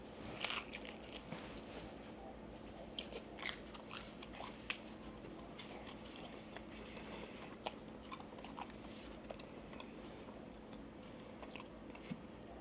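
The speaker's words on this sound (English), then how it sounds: "That little bit of crunch goes a long way for the satisfaction of how this pizza should taste." Crispy-bottomed keto pizza chaffel bitten and chewed up close, a run of sharp crunchy bites followed by steady, moist chewing with small crackles throughout.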